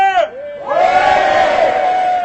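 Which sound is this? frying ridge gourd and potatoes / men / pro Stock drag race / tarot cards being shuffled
men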